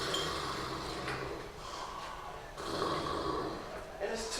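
A person imitates loud snoring in front of an audience at a conference talk, giving repeated rasping snore-like breaths that rise and fall over a few seconds with a brief pause in the middle.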